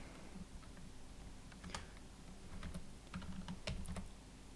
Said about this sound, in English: if I would type something in the chat like,